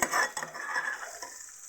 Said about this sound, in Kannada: ಈಗ ನೋಡಿ ನಾನು ಹಸಿ ಮೆಣಸಿಕಾಯಿನ ಹಾಕೋತಾ ಇದ್ದೀನಿ ಒಳಗೆ